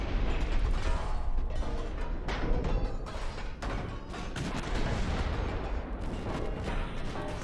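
Naval guns firing high-explosive shells in the warship game Ultimate Admiral: Dreadnoughts, a steady barrage of overlapping booms and mechanical clanks keeping a dense, loud, continuous roar with repeated sharp bursts throughout.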